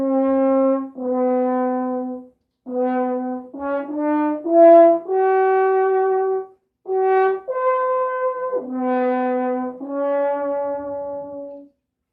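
Brass instrument played with a bright, ringing tone, all tuning slides pushed in; a slow phrase of sustained, loud notes separated by short breaths, heard alone without talk.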